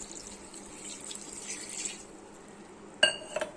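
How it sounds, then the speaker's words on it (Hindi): Water poured from a mug into a pot of dum biryani: a faint, soft trickling splash for the first couple of seconds, then a quiet lull and a few sharp clinks of the mug against the pot near the end. "इस तरह के 2 मग मैं पानी के शामिल कर रही हूँ"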